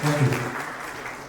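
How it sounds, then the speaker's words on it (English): An audience applauds panel members at a summit: a short burst of clapping mixed with a voice, fading quickly. "Let's have a big round of applause for the panel members with us"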